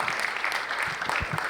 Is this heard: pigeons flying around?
no